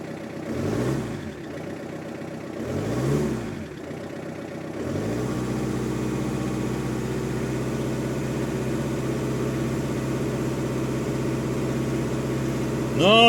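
A car engine that gives off visible smoke, brought in for a garage check, cranks over twice, fires and settles into a steady idle, sounding close and continuous for several seconds.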